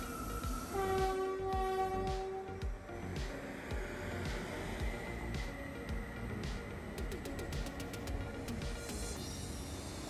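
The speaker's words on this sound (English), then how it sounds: "one of Trinity Metro's Texrail trains pulls in on its way to Dallas-Fort Worth International Airport" A Trinity Metro TEXRail commuter train, bound for Dallas-Fort Worth International Airport, pulls into a station. A loud horn blast is followed by steady rolling rumble and a rapid series of ringing clicks near the end.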